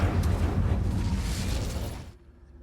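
An Incendio fire spell bursts out in Hogwarts Legacy, a loud roaring whoosh of flame that lasts about two seconds and then cuts off sharply into quiet.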